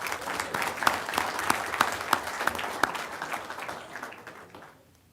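Applause from the audience at a school board meeting, honoring winter VHSL state champion athletes: a full, steady round of clapping that carries for several seconds, then tapers off and fades to near silence at the end.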